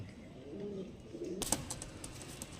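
Pigeons kept for sale coo softly in low, rolling calls, followed by a burst of sharper chirps and rustling close by.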